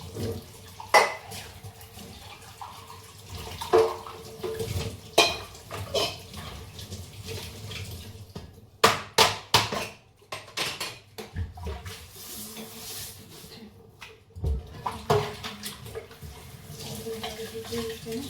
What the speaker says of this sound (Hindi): अभी मैं लगी फटाफट बर्तन साफ करने